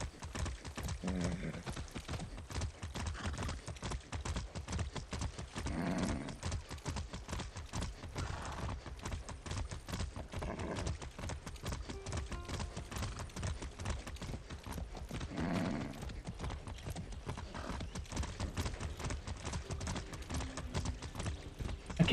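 Horse hooves clip-clop in a steady trotting rhythm while riding in the video game Far Cry 6, with faint mechanical clatter and occasional soft thumps throughout.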